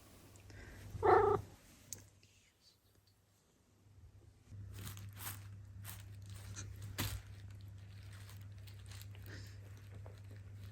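A house cat purrs close by in a steady, low rumbling drone that settles in partway through after a brief soft noise and quiet stretch, with light rustles on top.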